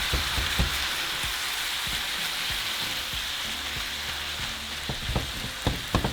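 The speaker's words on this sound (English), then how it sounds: "We're just going to brown our meat." Ground beef browning in a pan for beef enchiladas, a steady close sizzle with scattered sharp pops and scrapes of stirring throughout.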